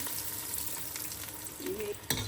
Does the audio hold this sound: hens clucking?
no